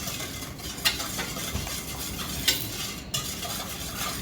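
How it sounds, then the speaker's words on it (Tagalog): Sauce ingredients, including powders, are stirred and mixed in a pan, giving a steady scraping, swirling texture with a few sharper utensil clicks against the pan and a faint sizzle underneath. "At ngayon ay i-mix natin ang lahat."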